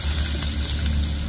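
Garlic and onion sauté in a pan for rotini tuna pasta, making a brief, loud, even sizzle up close with no voices.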